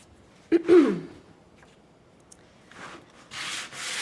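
Sandpaper rubbing over painted surface while wet sanding an antiqued background, with a short raspy stroke near the start and then longer soft scrubbing strokes toward the end, close and fairly quiet.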